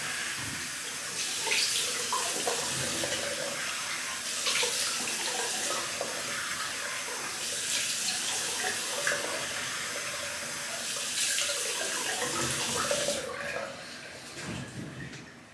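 Hot tap water running steadily into a bathroom sink for a rinse after a head shave, a continuous close splashing rush with slight surges, then easing off near the end.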